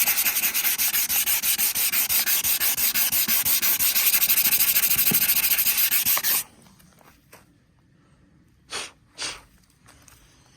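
Coarse-grit sanding strips yellow paint from a wooden duck boat, a loud steady rasping scrub for about six seconds, then stopping, with a couple of brief soft bursts and handling noise afterward.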